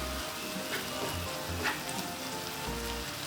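Shredded cabbage stir-fries in a pan with fish sauce and sugar, giving a soft, steady sizzle and crackle at low volume, with no voices over it.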